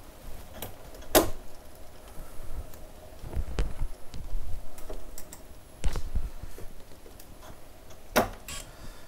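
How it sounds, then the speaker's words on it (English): A Campagnolo EPS electronic bicycle derailleur shifting through three gears on a spinning drivetrain: irregular clicks and clunks over a low whirring, close and moderately loud. "So I want it spinning for this because it's going to try and shift three gears."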